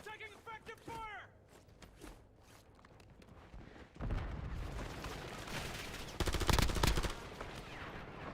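Video game gunfire: dense rapid bursts of shots crackle loudly through the second half, with a quieter stretch and a voice near the start.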